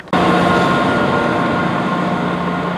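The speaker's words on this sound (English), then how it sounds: "Here comes my train," A Northern service train arrives at Edale station in Derbyshire, starting abruptly as a loud, steady low rumble with a sustained tonal whine that holds close and constant, no talking.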